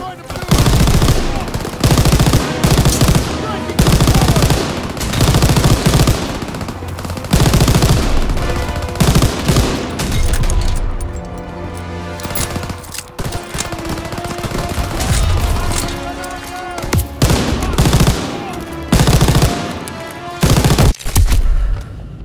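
Machine gun fire in a Call of Duty WWII battle, long loud bursts of automatic shooting that repeatedly stop and start, with a quieter lull of scattered shots and battle noise midway.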